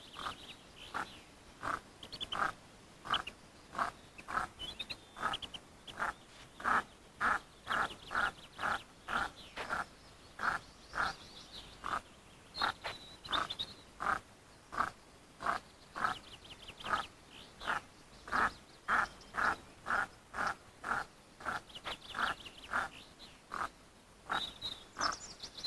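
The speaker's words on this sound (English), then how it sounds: "Then she calls the ducklings to her." A female sawbill duck calling her ducklings from the riverside, with a long run of evenly spaced, repeated calls over about 25 seconds, fairly close and clear, joined by faint higher peeps.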